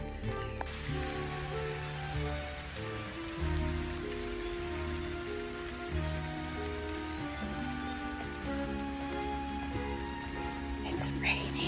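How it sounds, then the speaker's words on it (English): Light rain patters steadily and softly on surfaces during an outdoor walk on Labor Day, a faint continuous hiss close around with no clear talking. "It's raining."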